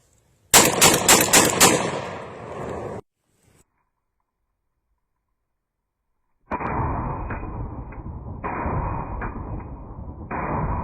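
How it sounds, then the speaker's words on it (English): A Black Aces Tactical shotgun fires buckshot in a rapid burst of about five loud, close blasts, then falls silent before a sustained roaring rumble with brief dips resumes. "I put 10 rounds of buckshot through it for break-in."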